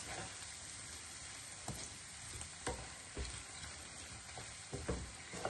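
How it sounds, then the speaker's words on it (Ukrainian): Steady sizzling of food frying with tomato in a pot, with occasional stirring scrapes and clinks cutting through the continuous hiss. "Одну-дві хвилинки якби прожарюю з томатиком."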